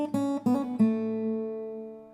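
Acoustic guitar plays riff 1 at full speed: three quick plucked attacks in succession, the last note ringing out and slowly decaying, with no one speaking.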